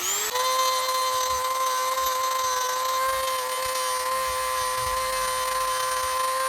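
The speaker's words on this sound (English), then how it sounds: "now I'm going to Dremel it down so that it's not sticking up" A high-pitched Dremel rotary tool grinds down wood on a segmented wig stand, whining steadily at constant speed, a loud sustained buzz with faint grinding underneath, no talking.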